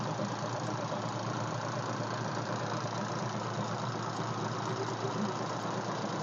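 A Hino P11 330-horsepower bus engine idles after starting, a dense, steady diesel clatter heard up close throughout.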